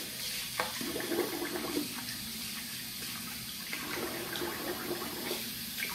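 Tap water runs steadily into a bathroom sink while a face is rinsed after wet shaving, a constant close splashing hiss with small irregular splashes from hands moving through the stream.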